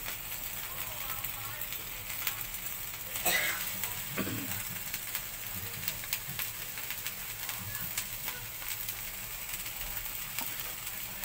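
Fern shoots and cassava leaves sizzle and crackle as they fry with belacan in a hot pan, a steady close hiss with occasional stirring clatter, while a person speaks over the cooking.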